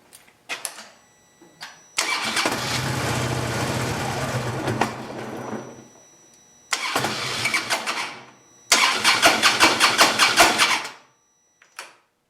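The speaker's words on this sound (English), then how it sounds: "Now start the bike and let it run until it dies." A 2008 Harley-Davidson Road motorcycle engine, with the fuel pump fuse pulled, cranks and catches in several loud bursts, runs briefly, stalls, then cranks again with a rapid pulsing chug before cutting out.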